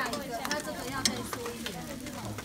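A scallion pancake sizzles on a hot griddle at a food stall, a soft continuous frying hiss with occasional scraping taps, under faint background voices.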